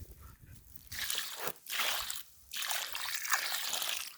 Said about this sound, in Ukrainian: приніс ось воду і поливаємо липу